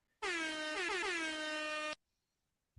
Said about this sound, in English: let's get the air horns on